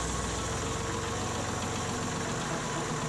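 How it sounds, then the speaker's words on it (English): Kubota L series tractor engine running at a steady idle, a continuous close, even diesel rumble with a faint knocking texture and no break in level. "start the tractor."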